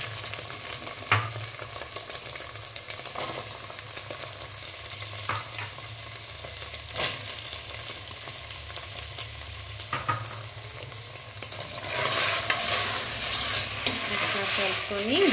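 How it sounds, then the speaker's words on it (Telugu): Vegetables fry in a pan for biryani with a steady low sizzle, punctuated by periodic spatula clanks and scrapes as they are stirred, the frying growing louder and busier near the end. "ఒక్కసారి అలా కలుపుకొని వెజిటేబుల్స్ అన్నీ వేసేసుకుందాము"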